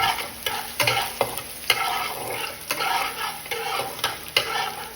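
Garlic frying in hot oil for chicken liver and gizzard adobo, a close steady sizzle broken by repeated scraping stirs and clanks of a utensil against the pan, no voices.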